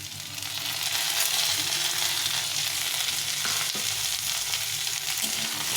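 Chopped tomato sizzles loudly in a pan of spiced chickpeas as it is stirred, a constant close hiss with faint scraping under it.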